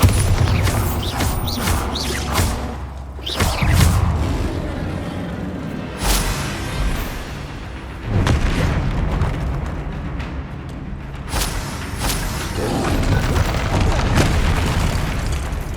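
Bombarda blasting spells detonating in the video game Hogwarts Legacy, a series of loud booming explosions at irregular intervals over a dense rumbling bed of combat noise and effects.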